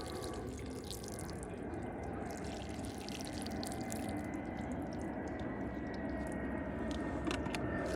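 Hot water sprays and splashes steadily onto a car panel in a continuous hiss, fairly quiet and even, with no talking.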